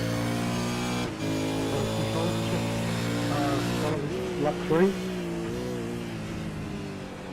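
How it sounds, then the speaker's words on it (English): V8 race car engine at Long Beach recorded from an onboard helmet camera, a steady loud roar with shifting pitch, a brief dip near one second and revving changes later, while a radio voice speaks briefly over it. "listen in to the sound of these V8s around Longbeach"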